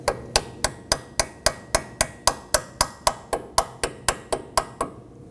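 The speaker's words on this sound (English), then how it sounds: "And tap it in with your hammer as well." A hammer taps a metal brake hose clamp into place on a Nissan Maxima in an even, steady rhythm, about eighteen sharp ringing strikes close by, with nothing else in between.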